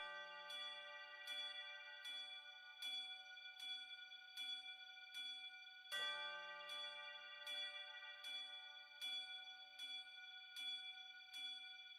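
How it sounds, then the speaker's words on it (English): Two synthesized polar bell tones drenched in heavy reverb, struck in a steady repeating pattern about every 0.8 seconds, bright and ringing with long washed-out tails, a deeper accent landing midway, no voices. "I have these two polar bells. Heavy reverb from Space Blender."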